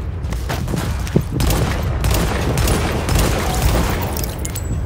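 Machine gun fire in the shooter game Tom Clancy's The Division, a dense, continuous barrage of loud rattling shots and booming impacts with no pause across the whole stretch.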